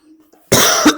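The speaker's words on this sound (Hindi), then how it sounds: "सॉरी फॉर खांसी" A single sharp, loud cough up close, preceded by a faint murmur, from a man giving an exam-preparation lesson indoors.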